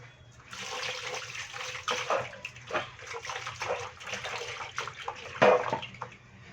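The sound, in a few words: washing stingray meat with water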